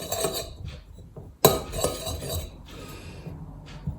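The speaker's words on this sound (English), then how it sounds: "Then you need to mix it together so it's all combined." Utensil clinking and scraping in a bowl as almond flour, coconut flour, xanthan gum and salt are mixed together for keto scones, with one sharp close clink among softer stirring scrapes and no talk.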